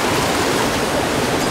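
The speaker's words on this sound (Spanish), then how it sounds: "Aquí el río se divide en dos, ve," A river rushing steadily where it splits into two channels near Guatapé, a dense continuous wash of flowing water, loud and close, with no voices.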